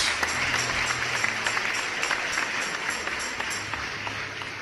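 A church congregation applauds during a Christmas sermon, a dense, continuous wash of many hands clapping at steady strength throughout, with no speech over it.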